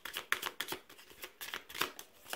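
Tarot cards being shuffled and drawn, a run of quick papery riffles and flutters in uneven bursts, close and fairly quiet, with no talking over them.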